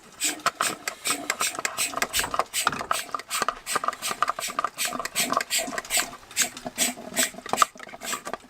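A Mighty Vac hand vacuum pump being worked to suck fuel out of cylinder number 2 of a rallycross Nissan NX2000 engine, a close series of rapid rhythmic clicking, ratcheting pump strokes.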